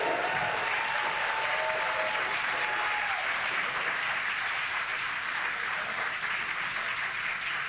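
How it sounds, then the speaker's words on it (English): A crowd cheers and applauds continuously as a SpaceX Falcon 9 first-stage booster lands for the ninth time, a dense, sustained roar of clapping and whoops throughout. "You can hear the cheer and the applause"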